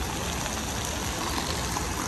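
Water streaming steadily in a fountain inside a shopping mall, a continuous close rushing and trickling wash at a constant level, with no voices.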